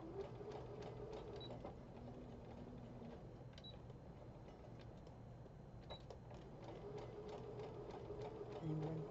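A sewing machine stitches a Halloween scrub cap, its steady mechanical whir running continuously at moderate loudness, broken by small clicks and faint background talk.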